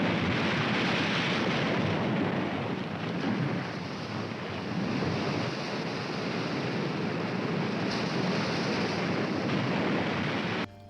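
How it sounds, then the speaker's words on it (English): Ocean waves crash and roar continuously near a beach house in a Robert Altman film, a dense, loud, rumbling surf with wind buffeting that stays steady throughout before dropping off abruptly at the end. "conversations are drowned out by the crashing waves"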